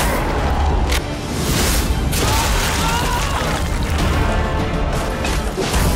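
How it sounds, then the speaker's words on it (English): A light bomb explodes in the video game Nosgoth, giving a loud, crashing blast with sharp bursts that stays dense and noisy throughout, like a steady barrage of impacts. "The light bomb is a much more offensive luminescent weapon"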